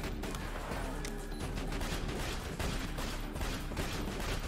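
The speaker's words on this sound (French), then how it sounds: "je tire dessus jusqu'à ce qu'il meure" Continuous gunfire from shooting an enemy in the video game Borderlands 2, a dense, steady barrage of rapid shots that holds at an even level from start to finish with no talking.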